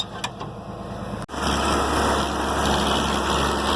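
An IH Farmall 706 tractor engine runs steadily at close range while spreading fertilizer. A sharp break comes partway through, then a louder, rougher, continuous drone takes over.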